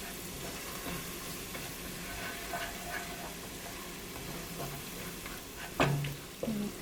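Chicken biryani being stirred in a pot, a soft steady scraping and sizzling with a few sharper clinks of the spoon against the pot near the end, with no voices.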